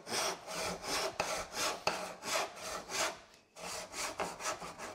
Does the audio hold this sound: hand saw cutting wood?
yes